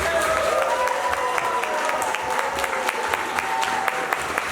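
Audience claps and cheers for contestant Eric at the SoapBox Idol libertarian rant competition at PorcFest 2021. The applause is steady and fairly loud, with sharp individual claps over the whole crowd noise.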